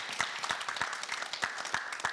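Audience at a careers event giving applause, a steady patter of many hands clapping with distinct individual claps, fairly faint and roomy.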